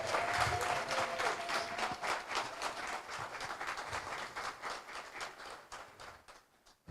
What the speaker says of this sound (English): please give her some applause